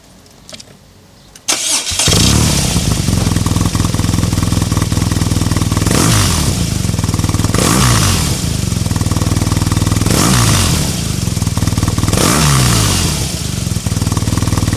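After a brief crank, a BMW R NineT Racer boxer motorcycle fires up close by and idles loudly, with several throttle blips rising and falling at regular intervals.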